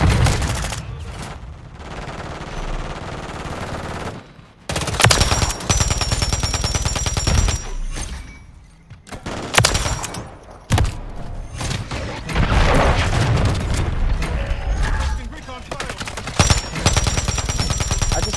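Sustained automatic fire rattles through a Call of Duty: Modern Warfare 3 match, long loud bursts broken by brief pauses and thuds, with an occasional voice under the shooting.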